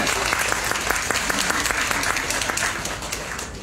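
A university lecture audience applauds, a dense steady clapping that holds for a few seconds before easing slightly.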